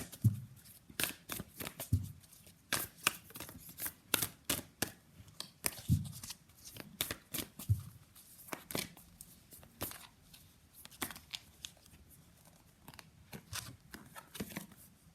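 A Moon Oracle card deck is shuffled close by, quiet irregular bursts of riffling and flicking paper with brief pauses between handfuls.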